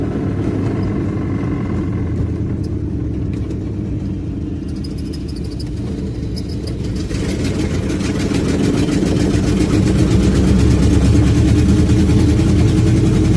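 A car engine idling with a misfire from a cracked spark plug, a loud close low rumble with uneven jumpy pulses that swells slightly louder toward the end, with no talk over it.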